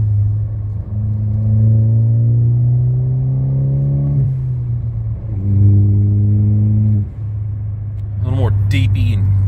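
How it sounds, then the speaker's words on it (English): A tuned Ford Focus ST with a performance calibration revs up twice with a deep, growly rumble, holding each rev for a few seconds, then a sharper burst of throttle near the end. "she sounds a little more mean"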